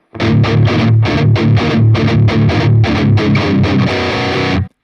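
A heavily distorted electric guitar in standard tuning plays the short pre-chorus riff, chugging with punchy rhythmic palm-muted chords, loud and close, ending abruptly.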